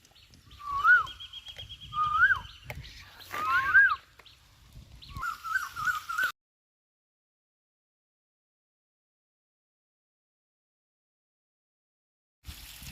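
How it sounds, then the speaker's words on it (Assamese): An Asian koel calls outdoors, repeating its rising whistled note about four times in the first six seconds at close to moderate distance, followed by near silence. "কুলি মাতি আছে এইপিনে"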